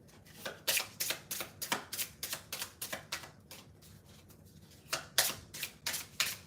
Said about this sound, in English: I'll pull a few cards from here.